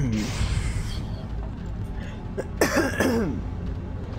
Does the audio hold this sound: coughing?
yes